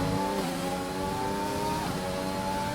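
A Formula 1 car engine in the F1 2020 game at the Canadian Grand Prix drones at a steady high pitch with layered harmonics, sustained and loud throughout with only slight pitch shifts.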